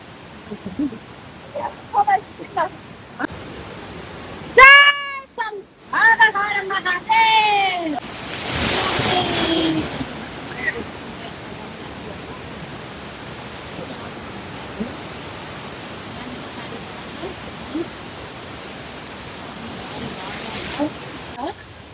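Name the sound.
mountain stream flowing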